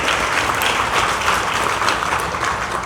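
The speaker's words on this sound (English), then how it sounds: "Give yourselves a clap for all the work that's in there." An audience at a Catholic women's league convention gives enthusiastic applause, dense even clapping that holds loud and steady for the whole stretch with no talk over it.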